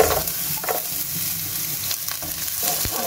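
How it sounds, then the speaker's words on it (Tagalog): Onions frying in hot oil in a pan for a homemade chicken masala, a steady close sizzle with a few stirring scrapes and clicks throughout, no talking. "magpapainit na tayo ng mantika. Ayan, lalagay tayo ng sibuyas."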